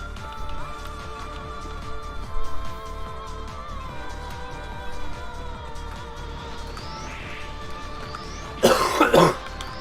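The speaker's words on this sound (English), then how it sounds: "I can't stop coughing." A voice coughs in a short, harsh burst of several hacking coughs near the end, close and loud over steady video game music, with an earlier softer throat sound.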